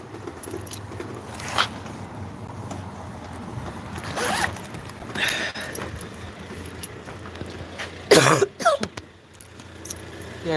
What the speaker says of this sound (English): I quickly get my keys out